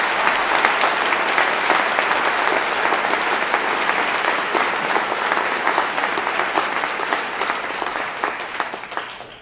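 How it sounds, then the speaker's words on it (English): Dense, sustained applause from a large audience at a University of Guelph convocation ceremony, loud and steady for the whole stretch and tapering slightly at the end. "would you join me in giving a round of applause to both of those people?"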